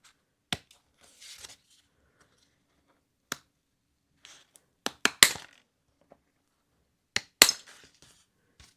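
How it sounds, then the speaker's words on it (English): Scissors snip through die-cut paper flowers during a card-making session, a handful of sharp, separate cuts with pauses between them, close and crisp in a quiet room. "or I guess I could just try with scissors."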